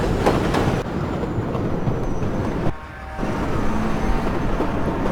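A New York Flushing Line 7 subway train in World of Subways 4 rumbles steadily along the tracks, with a brief quieter dip partway through before the rolling noise returns, no voices.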